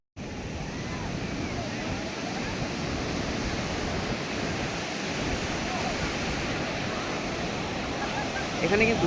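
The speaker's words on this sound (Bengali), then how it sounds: "জলের ঢেউ অসাধারণ, ভীষণ ঢেউ।" Ocean waves surge and break continuously on the sandy shore of Marina Beach, Chennai, a steady broadband roar close by with wind buffeting, and a brief voice speaking near the start.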